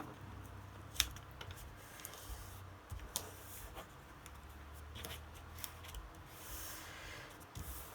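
Paper is trimmed with scissors during altered-book page preparation, with a few sharp snips and light rustling and handling noises at close range.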